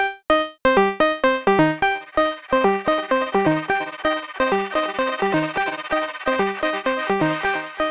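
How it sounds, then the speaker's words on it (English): Valhalla Freak Echo plugin processing a plucked synth melody, each note trailed by distorted, modulated repeats that build into a dense, continuous wash over about eight seconds. "Also from Valhalla, we got the Freak Echo."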